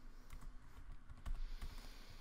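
A computer keyboard is typed on in a quick, uneven run of soft clicks while entering code, close and faint with no talking.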